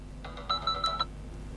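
An alarm tone previews on a ZTE Nubia Red Magic Astra tablet, a quiet series of four bright electronic chimes in quick succession over low background hiss.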